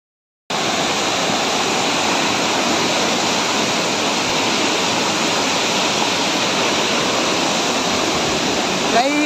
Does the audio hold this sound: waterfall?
yes